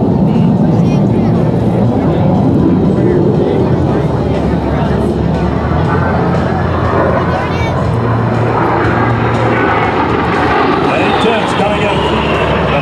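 An F-15E Strike Eagle jet roars away on full afterburner during a combined arms demonstration at an airshow, a loud, sustained broadband rumble that fills the whole stretch.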